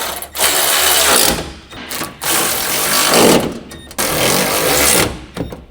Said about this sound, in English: Use a medium 10mm shallow socket with an electric impact wrench. Tighten the upper crossmember mounting bolts.